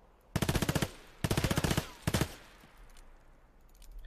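Video game automatic gunfire in three bursts, the last one short, loud rhythmic rounds with quieter game sound after the shooting stops.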